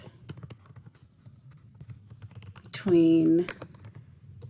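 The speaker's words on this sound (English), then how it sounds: "I'm going to type my answer in a complete sentence." Typing on a computer keyboard, scattered light key clicks at close range, with a person briefly speaking partway through.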